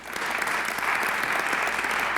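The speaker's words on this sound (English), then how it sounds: "Oh, we can applaud that." An audience at a luncheon in Washington, DC claps in a full, even burst of applause that holds steady throughout.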